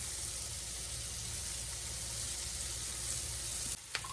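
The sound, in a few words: sautéing and stirring food in a pan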